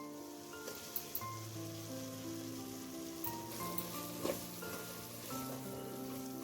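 Cumin powder, turmeric powder and salt sizzle in a hot pan while cooking Kashmiri chicken masala, a steady crackling fry under background music.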